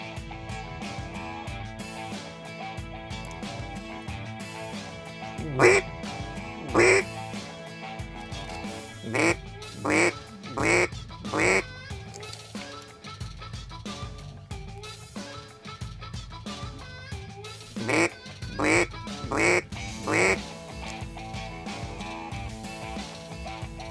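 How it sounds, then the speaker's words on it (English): Mallard ducks quack during a duck hunt, with groups of loud, rapid, nasal quacks repeating in short bursts at close range over a humming background, with gaps between calling runs. "them mallards will come around"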